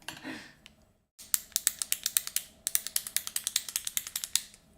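Button being screwed onto a 3D-printed part, a dense run of sharp plastic ratcheting clicks in quick bursts, close and fairly loud, after a brief quiet gap.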